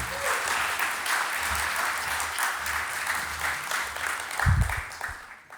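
Applause from a conference audience at an opening keynote in Amsterdam, a steady dense wash of many hands clapping that swells slightly near the end before fading.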